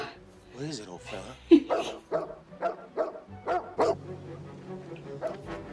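A dog in the film Homeward Bound barks, yips and whimpers in short excited bursts, mixed with music and voices from the film and people reacting over it.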